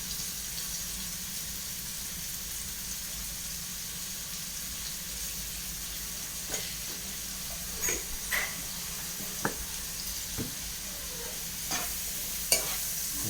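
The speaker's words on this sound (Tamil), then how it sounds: "உப்பு போட்டு நல்லா வதக்கணும்" Chicken curry ingredients cooking with salt in a pan, a quiet steady sizzle with a few scattered spoon clinks and stirring taps in the later part, no one speaking.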